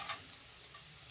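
Green chillies and ginger-garlic paste fry in a kadai with a soft, steady sizzle, faint and close, with no voices.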